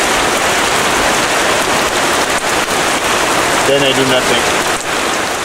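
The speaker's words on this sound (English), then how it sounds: "So, well protected, I waited for the rain to stop" Heavy rain drums on a roof over a shelter on an island, a dense, constant hiss of drops close by, with someone speaking briefly partway through.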